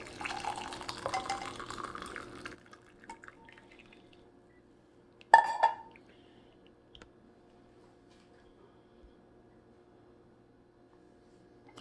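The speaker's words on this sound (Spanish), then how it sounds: "Ya el té está listo para disfrutarlo. Debemos colarlo." Freshly brewed rosemary tea is poured through a strainer, a soft splashing trickle for a couple of seconds, then a brief clink and faint drips trailing off into near silence.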